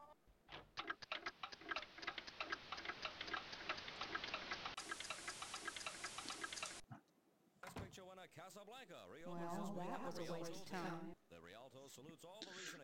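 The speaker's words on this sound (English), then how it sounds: "we hear the sound of a clock ticking, and it sounds like it's ticking pretty quickly" Fast, steady clock ticking in the video game Amber: Journeys Beyond, sharp and regular for about seven seconds, then giving way to warbling voice-like tones.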